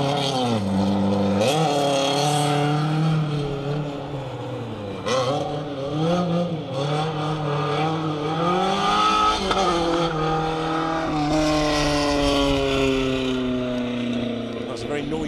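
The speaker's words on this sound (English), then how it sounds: "That's a very noisy Scott Walton and Craig Nelson in their Mark II Escort." A Mark II Ford Escort rally car roars close by on a Welsh forest rally stage, its engine loud and revving hard through gear changes, with a commentator talking over it.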